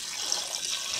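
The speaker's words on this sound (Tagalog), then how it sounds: "Lagyan ko muna siya ng tubig." Tap water runs steadily into a pot being filled for pressure cooking pork, a continuous bright splashing hiss, close and moderately loud, with no talking.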